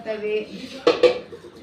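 Clay tava griddles are handled in a kitchen. Two sharp knocks of one griddle against another ring out close, with faint rattling in between and a brief clatter at the end.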